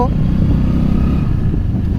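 A motorcycle rolls along a road through dense forest in Harda district during monsoon rain, its engine a loud, steady close rumble with a rattle of clatter throughout.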